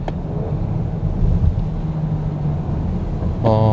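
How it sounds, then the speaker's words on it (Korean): Lincoln Aviator engine droning steadily from inside the cabin at low speed on a rough unpaved road, a constant low hum with road rumble and little outside noise. "이제 엔진 소리만 이제 운전자가 체감을 할 수 있게끔 들어오고 있고요"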